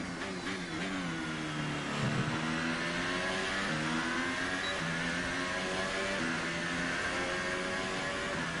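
Race car engine in a racing video game on practice laps, a steady mid-pitched drone whose revs rise and shift in repeated steps over a constant buzzing hum, close and continuous with no talk.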